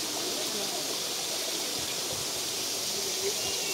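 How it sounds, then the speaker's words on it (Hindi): A waterfall runs down a green hillside at a dargah shrine, giving a steady broadband rush of flowing water that sounds close and continuous, with no clear voices over it. "ये देखिए दोस्तों यहाँ पे झरना चल रहा है,"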